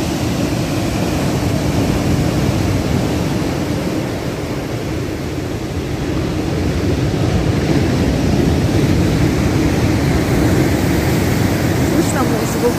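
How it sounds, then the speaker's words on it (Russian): Steady roaring wash of stormy surf on the Black Sea coast at Lazarevskoye, Sochi, broad and rumbling, rolling on continuously with gusty wind noise against the microphone. "Слышно звук моря"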